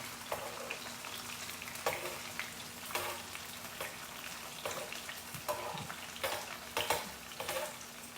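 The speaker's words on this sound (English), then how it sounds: "So just mix it up and you will just lightly fry it." Food shallow frying in fat in a pan gives a constant close sizzle, with stirring scrapes and small pops rising above it at intervals.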